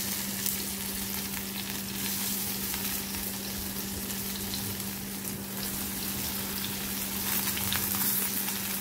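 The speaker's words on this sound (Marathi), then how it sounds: "तेल छानपैकी गरम झालेलं आहे आता। तर ह्याच्यामध्ये आता ह्या वड्या आपण शॅलो फ्राय करून घेऊ।" Aluwadi rolls of colocasia leaf shallow fry in hot oil in a pan, a dense, continuous crackling sizzle held at an even, close level throughout with no talking.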